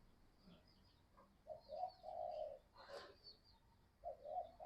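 A large dove coos a few deep, resonant notes in a short phrase, fairly faint against a quiet background with no talk.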